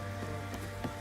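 A heavy downpour in The Witcher 3 makes a steady, dense wash of rain over a low constant hum, with a few soft splashy spikes and no voices.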